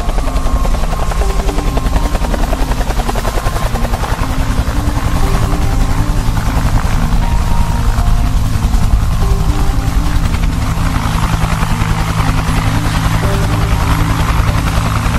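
Helicopters in an animated Squid Game style story, rotor thumping loud and continuous as they fly and come in to land, a close, steady whirring drone with no talk.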